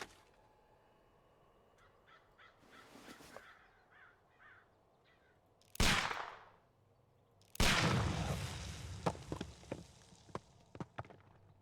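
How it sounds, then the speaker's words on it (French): A pistol shot rings out in a Sherlock Holmes video game as it is fired at a package, one sharp loud crack, followed by a larger burst of crashing, rumbling noise and scattered impacts. "Do you have your pistol? Good. Fire at this package."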